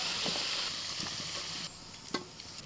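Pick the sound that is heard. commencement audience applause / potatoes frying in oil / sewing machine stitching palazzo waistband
potatoes frying in oil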